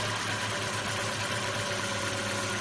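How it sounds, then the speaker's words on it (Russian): Steady idle from the 1.8-litre QG18DE engine of a 2006 Nissan Primera, an even mechanical drone with faint ticking, close by and unbroken, with no talking. "Работа двигателя на холостом ходу."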